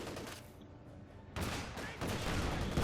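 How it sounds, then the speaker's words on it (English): Anti-tank rifles pound a Panzer IV in the Company of Heroes 2 strategy game, a dense crackle of gunfire and impacts that surges louder partway through, with battle noise filling the whole span. "Panzer IV engaging the tank hunter section, taking hits from the anti-tank rifles"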